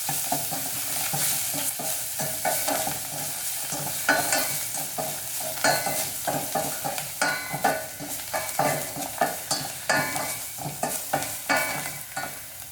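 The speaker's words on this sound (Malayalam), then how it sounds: "ഒന്ന് ഇളക്കി കൊടുക്കാം." Crushed garlic is stirred in a hot pan while making pepper rasam, giving a steady sizzle with rhythmic scraping strokes of the spoon close by. Nobody talks.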